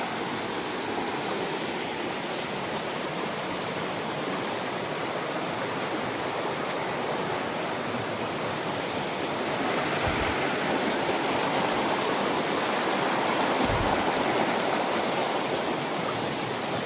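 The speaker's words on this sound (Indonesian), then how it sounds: "Nah, ini ada sungai yang masih jernih ya." A clear river flows through natural forest near an old Hindu temple site in Central Java, giving a steady, broad rush of water that holds constant throughout, with no voices.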